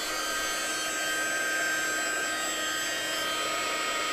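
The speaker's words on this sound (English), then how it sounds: "And then taking your heat tool again," An embossing heat tool blowing steadily while it heats silver embossing powder in a papercraft project, a constant close whir with a faint high whine and no pauses or speech.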